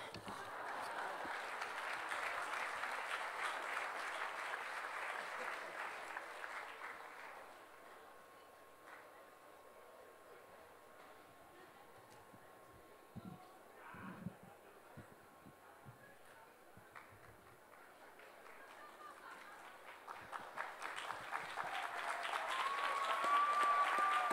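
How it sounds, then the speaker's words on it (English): Applause from the audience at a university doctoral hooding ceremony, loud at first, then thinning to scattered claps midway and swelling again at the end. Faint voices are heard under it. "Can we have a round of applause for all of our graduates, please?"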